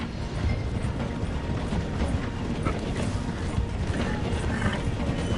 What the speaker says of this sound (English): The train is slowing down.